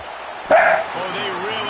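A Georgia crowd in a college football video game, LSU versus Georgia, lets out a loud, short woof-like bark on third down, one sharp burst standing above steady stadium noise, followed by a voice talking over the crowd.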